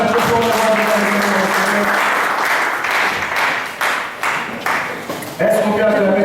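A church congregation applauds loudly and steadily, with voices and music carrying over the clapping throughout.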